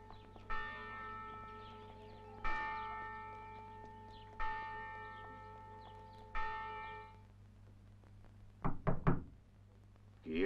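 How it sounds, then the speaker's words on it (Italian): Three sharp knocks on a convent door, spaced a couple of seconds apart, each followed by a ringing bell-like tone, then a quick cluster of louder raps. "Chi è che bussa a sto convento?"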